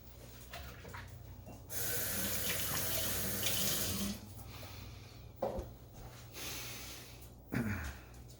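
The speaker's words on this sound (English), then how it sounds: "Let me just wash my hands here." A kitchen tap runs while hands are washed under it, a steady splashing rush of water that starts, lasts a few seconds, then stops, followed by faint handling sounds and a couple of brief knocks.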